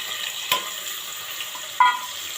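Vegetables for undhiyu, including cauliflower and stuffed chilies, sizzle in hot oil in a pan as a steady low frying hiss, with two short louder bursts as pieces drop in.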